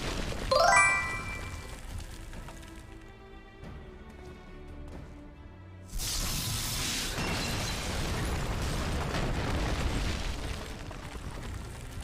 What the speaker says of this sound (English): They just wanted an excuse for explosions